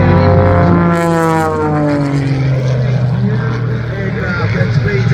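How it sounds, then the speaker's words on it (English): A low-flying aerobatic propeller aircraft trailing smoke at the Central Coast Airshow 2024 opening ceremony, its engine droning loud and close with a falling pitch as it passes, while a commentator speaks over it. "Aircraft that speeds at over 400 kilometres an hour with the smoke on down at the lowest altitude any man can fly."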